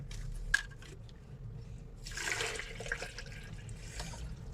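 Water being poured into a container of sugar for a ginger and mint syrup, a soft, splashing stream that swells midway, faint and close, with no talk.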